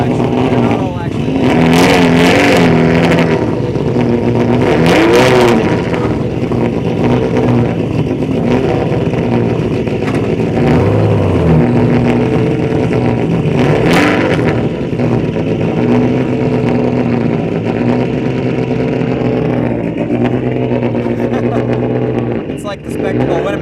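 Loud rally car engines rev and roar continuously at the 2012 Oregon Trail Rally, several cars throttling up and pulling away close by to run stages, with voices talking over the din.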